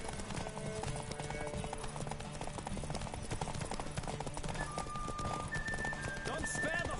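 A horse in the video game The Witcher 3 gallops hard, with rapid, steady hoofbeats running through the whole stretch under game music, occasional whinnies, and voices talking over it.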